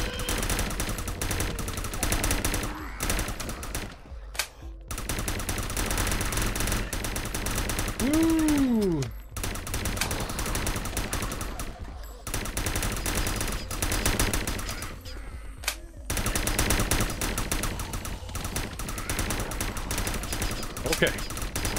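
Sustained rapid gunfire from the zombie shooter game The Last Stand: Union City, dense and loud for long stretches with brief pauses between bursts, a few pitched sweeping effects mixed in, and a voice talking over the shooting at times.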